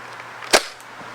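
An Xploderz X2 Invader 700 toy blaster fires a single sharp snapping pop, close and brief, with a faint click just after.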